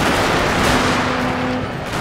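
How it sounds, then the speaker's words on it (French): Cannon artillery bombardment in Shogun 2: Total War multiplayer battle, a dense continuous roar of distant booming fire with a faint tonal hum running through the middle, no talk. "Et là, tu vois, ces canons ils ont bombardé, hein. Ils ont bombardé ta ligne depuis tout à l'heure."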